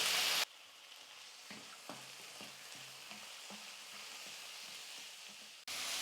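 Chopped tomatoes and green peas sauté in a pan for egg Maggi masala, a soft, steady sizzle with faint stirring scrapes, quiet and close, bracketed by louder bursts at the start and end.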